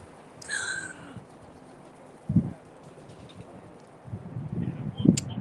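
Pigeons above a fishing pier give soft low coos in a few short bursts, with a brief higher call early on, over a steady outdoor breeze.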